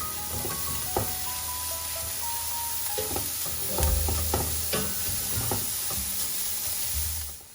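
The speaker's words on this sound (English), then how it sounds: "So let's go ahead and stir these up right now and get them going." Carrots fry in a pan for a vermicelli Bolognese, sizzling steadily while a utensil stirs and clinks against the pan in irregular close knocks and scrapes.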